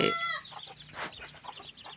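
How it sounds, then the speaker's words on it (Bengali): A village chicken clucks close by in a small backyard poultry shed, a few short clucks and squawks spread over two seconds against faint farmyard background noise. "এখানে একটা মুরগি আছে"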